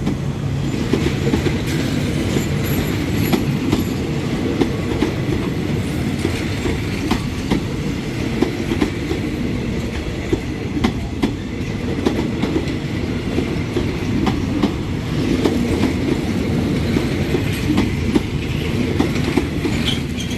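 An empty passenger train carrying no military cadets rolls steadily past on the Bang Sue curve, its wheels clattering loudly and continuously over the rails up close, with faint squeals mixed into the rumble.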